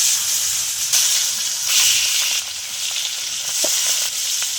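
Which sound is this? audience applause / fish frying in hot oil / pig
fish frying in hot oil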